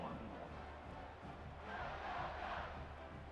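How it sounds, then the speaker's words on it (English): Stadium crowd in a college football video game (EA Sports College Football 26, North Texas versus Navy) buzzing with a steady roar that swells into louder cheering, heard under commentary. "this crowd is buzzing after that last score"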